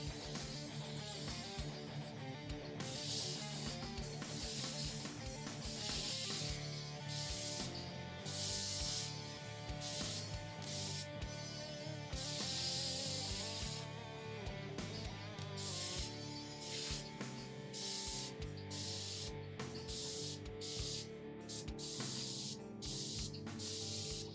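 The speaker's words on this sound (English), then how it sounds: "my airbrush is working good today" An airbrush spraying paint onto a figure gives repeated short hissing bursts of spray, near and fairly steady, with music playing underneath throughout.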